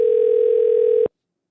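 A steady telephone tone on an outgoing call, placed to a caller who stole $2,000 from hurricane victims, holds level for about a second and then cuts off abruptly into silence.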